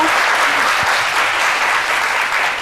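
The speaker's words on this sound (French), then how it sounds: "On va surtout applaudir pour ce champion" An audience applauding a retired Ivorian sports champion at a tribute, loud, dense, continuous clapping that holds steady throughout, close and uninterrupted.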